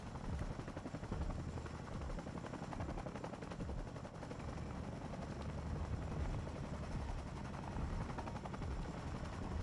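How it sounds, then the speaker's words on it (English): A helicopter in the video game Battlefield 6 drones steadily and loudly throughout, its rotor and engine noise continuous, with faint gunfire-like crackle mixed in and no voices. "I am outside of the map on the helicopter still"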